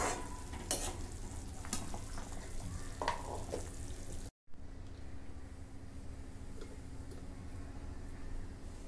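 Vegetable curry simmers and sizzles in a pan with a steady close frying hiss, with a few scraping stirs early on and a brief cut to silence midway.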